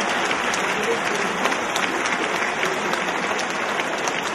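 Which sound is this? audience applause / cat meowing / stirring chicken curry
audience applause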